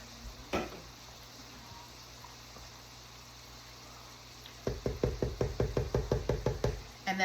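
Ground meat and other casserole ingredients mixed in a bowl, heard as a quick run of regular scraping, knocking strokes close by after a quiet stretch.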